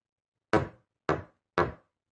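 Three firm knocks on a wooden door, close and evenly spaced about half a second apart, each a sharp rap with a short resonant decay, set against silence.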